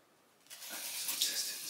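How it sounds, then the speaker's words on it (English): Water from a household tap starts suddenly after a brief quiet moment, then runs as a steady, soft hiss close by. "Did you guys see her open the water?"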